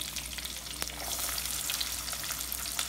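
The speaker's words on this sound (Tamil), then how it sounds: "கருகப்பிலை ஆட் பண்ணிவிட்டு அதுக்கப்புறமா வெங்காயம் ஆட்" Curry leaves and onions frying in hot oil for a spicy fish curry, a dense, even crackling sizzle that swells slightly after the first second, with one brief spoon tap.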